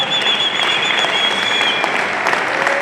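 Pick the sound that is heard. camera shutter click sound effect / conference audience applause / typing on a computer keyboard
conference audience applause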